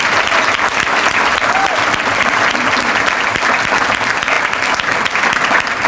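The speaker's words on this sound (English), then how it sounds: "How about a big round of applause for Christine McKenzie?" An audience gives a loud, sustained round of clapping for a speaker at a corporate Chrysler event, dense and steady for the whole stretch with no talking over it.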